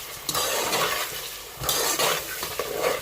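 Chickpeas, whole spices and a bay leaf fry in a pan as a spoon stirs and scrapes, giving a steady close sizzle with rhythmic scraping strokes and light clinks of utensil against metal.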